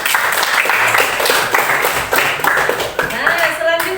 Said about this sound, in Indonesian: kita berikan dulu tepuk tangan untuk Radit